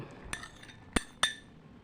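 A spoon knocks against a bowl while corn, white sorghum and cowpea salad is mixed, three or four sharp clinks spaced irregularly, close and clear over near silence.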